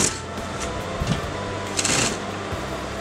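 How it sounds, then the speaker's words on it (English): A sewing machine runs a straight stitch through velcro, a soft steady mechanical whir with a few brief clicks and rattles, fairly quiet and close. "So just put a straight stitch on the velcro"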